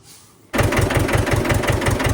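A tractor engine starts abruptly after a brief quiet, then runs with a loud, rhythmic low chugging, ready for ploughing a field.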